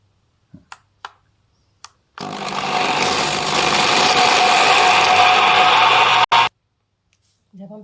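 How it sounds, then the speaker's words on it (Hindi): Electric kitchen grinder pulverising pistachios, almonds and cardamom seeds: a loud steady motor whine for about four seconds, cut by a brief stop and restart, with a few lid clicks before and after. "हम तमाम चीज़ों को ग्राइंडर में डालकर एक साथ पीस"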